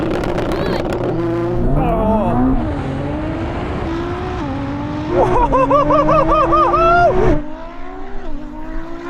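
A Ferrari SF90 and a tuned Nissan GTR of about 1000 horsepower launch in a drag race. Loud engines rev and climb through rising gear pulls, with tire noise and a brief spoken word at the start.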